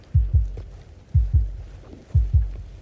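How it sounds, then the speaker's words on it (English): A heartbeat sound effect from Into the Radius thumps in three evenly spaced double beats, deep, loud and close, with nothing else over it. "This heartbeat will get annoying."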